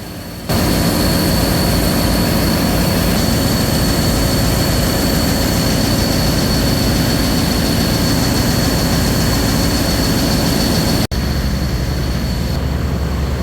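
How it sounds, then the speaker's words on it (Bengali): Engines of the Farhan 7 passenger river launch running from Chandpur to Barishal roar loudly and continuously, a heavy low drone topped by a thin, high-pitched whine that holds steady throughout, with one brief dip near the end. "প্রচুর ঘোরে ইঞ্জিনগুলো যার কারণে একটা চিনচিনে আওয়াজ কানের মধ্যে আসে"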